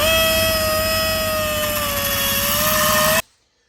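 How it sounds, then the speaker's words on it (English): Die grinder grinding a bit of weld off a Polaris RZR transmission part, a loud, steady high-pitched whine held close for about three seconds before cutting off abruptly. "I'm going to take the die grinder and grind that little bit of weld off there"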